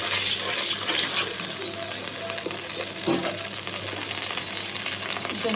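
Water poured into spice paste frying in a pan for a beef bhuna makes a continuous hissing sizzle and bubbling, moderately loud and steady throughout, with a few clinks and no talk.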